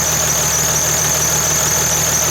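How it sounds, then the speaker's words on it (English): A Mercedes Sprinter van engine idles steadily up close after a thermostat replacement, a loud, even mechanical hum with a constant high whine and no speech. "while the engine is running"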